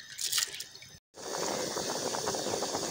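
Washed rice poured into a pot of hot water for boiling, with a splashy pour, a brief gap, then a steady watery rush and bubbling that continues close to the microphone.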